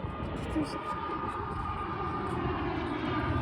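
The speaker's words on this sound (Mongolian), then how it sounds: "За энд нэг онгоц ирж байна." An airplane passes low and close overhead on a road trip in northern Mongolia, its broad engine roar steady and loud for the whole stretch, with faint voices underneath.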